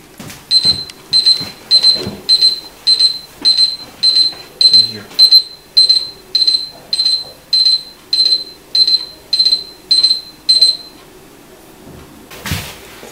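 Countdown timer alarm on a Huawei MediaPad T3 tablet ringing in a kitchen, a regular series of about fifteen bright electronic beeps in even rhythm, fairly loud and close, stopping before a faint knock near the end.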